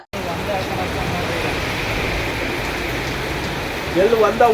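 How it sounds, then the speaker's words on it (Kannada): Continuous rain falls over Chikkamagaluru town as a steady broad hiss with faint street noise beneath, and a voice briefly rises near the end. "ಮೂರು ದಿನಗಳಿಂದ ನಿರಂತರವಾಗಿ ಸುರಿಯುತ್ತಿರುವ ಮಳೆಯಿಂದ"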